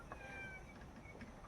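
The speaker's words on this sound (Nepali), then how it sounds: "अर्को बिल्ली प्याउ प्याउ गर्दैछ।" A cat meows softly a few times in a quiet room, with a faint second meow near the end.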